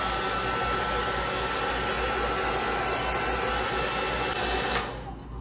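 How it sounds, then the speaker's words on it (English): A handheld blow dryer runs close and loud as a steady broadband whoosh, holding constant for about five seconds before cutting off near the end. "gonna plug the blow dryer in."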